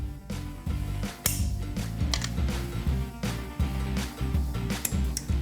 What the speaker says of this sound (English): Get the torque wrench out for maximum torquage.